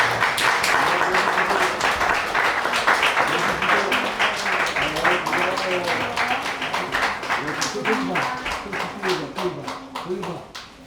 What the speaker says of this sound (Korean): 뜨겁게 박수 해주세요.